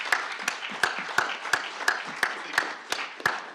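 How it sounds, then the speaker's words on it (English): Slow, regular hand clapping at the end of a workshop session, about ten evenly spaced claps, fairly close with a light crowd murmur underneath. "An applause for everybody."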